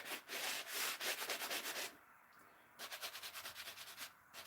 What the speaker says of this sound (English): all I'm doing is just scuffing off the shiny soot parts.